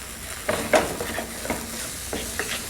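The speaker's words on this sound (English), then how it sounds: "some salt, our green peas, stir all that in" Coriander, salt and green peas are stirred together in a pan with a soft sizzle. A few distinct spoon scrapes sound close by, and no one speaks.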